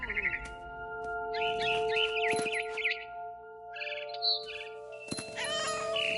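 A cat meows repeatedly in the video game What Remains of Edith Finch, giving several drawn-out, wavering cries in short bursts over a soft background of sustained tones.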